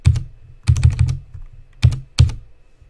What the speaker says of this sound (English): And I'm typing in the chat that I'm here.